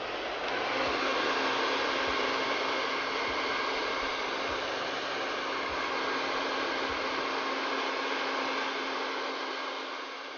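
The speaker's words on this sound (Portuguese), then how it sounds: "se não deu tempo de secar naturalmente, você deve acelerar com secador de cabelos." Hair dryer blowing on painted silk to dry it, a loud steady rushing whoosh held evenly for about ten seconds with faint rhythmic ticks underneath, close by and with no talking.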